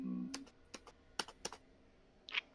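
Computer keyboard keys are struck in a few separate clusters of sharp, close clicks with short pauses between them, fairly quiet overall, with a brief tonal sound at the start.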